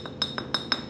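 A 1-quart glass bottle that once held Supreme Gulf motor oil, picked up at a yard sale, gives four light, bright glassy clinks spaced evenly through a second, each one close and crisp.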